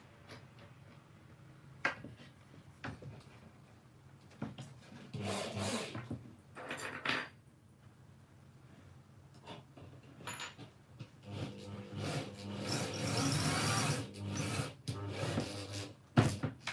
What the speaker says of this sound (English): the first thing I need to do is actually make lots of holes